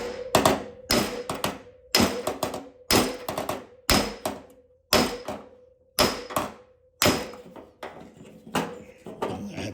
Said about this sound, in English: I'm going down to a broad pick hammer. I'm going to be putting my dolly on the surface.